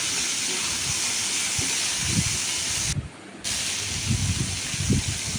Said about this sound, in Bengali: এবার পটলগুলো ভেজে নেবো পটলগুলো একটু নরম করে ভেজে নিলাম